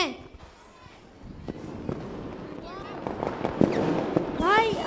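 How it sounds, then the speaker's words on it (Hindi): Firecrackers set off outside a house to celebrate an Indian cricket win, sharp pops and crackles scattered under loud, excited voices, building toward denser bursts at the end. "सात के भाई घर के बाहर पटाखे जला रहे हैं।"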